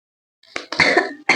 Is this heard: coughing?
yes